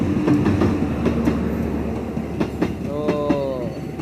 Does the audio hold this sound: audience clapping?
no